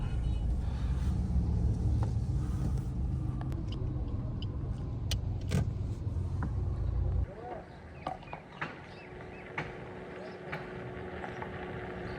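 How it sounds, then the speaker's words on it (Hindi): A car is turned around on a street. A steady loud engine rumble runs for several seconds, then cuts down to a quieter idle with scattered knocks and clicks, while people talk throughout. "तो यहीं पर घुमाते हैं गाड़ी को।"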